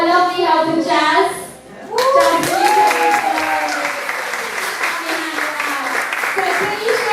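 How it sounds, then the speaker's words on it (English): An audience at a 2015 stand-up comedy show applauds loudly and steadily, with a brief dip before the clapping swells again; a voice speaks over the start of the applause. "please keep their hands and the claps going for Anna Patterson"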